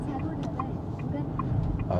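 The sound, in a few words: car turn signal ticking in Renault Grand Koleos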